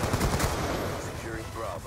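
Bursts of rapid automatic gunfire from the Black Ops 2 video game, loud and dense for about two seconds, with brief game noise in the background.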